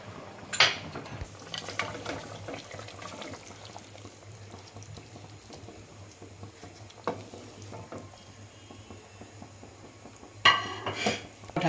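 A lid set onto a pot of catla fish and potato curry, with a sharp metallic clank near the start and another near the end, between quieter kitchen clatter and a low hum.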